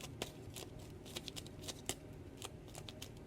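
Tarot cards in thin piles are shuffled repeatedly, a run of quick riffling bursts and soft flicks at a close, even pace with no talking.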